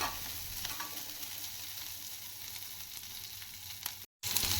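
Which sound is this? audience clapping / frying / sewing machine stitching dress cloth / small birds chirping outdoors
frying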